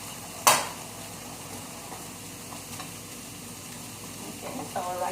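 Rice for Ecuadorian chicken and rice sizzles steadily in a pot, with one sharp metallic clank of a utensil near the start and faint stirring scrapes later.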